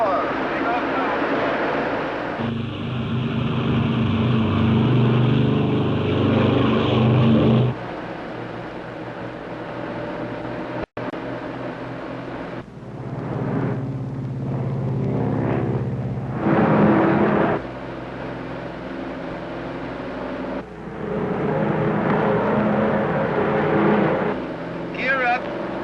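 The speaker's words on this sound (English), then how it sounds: "Here we go. Ready for takeoff. Takeoff power. Takeoff power." A Lockheed Super Constellation propeller airliner runs up toward takeoff power, a loud rough engine roar rising and falling in surges, heard from inside with people talking over it.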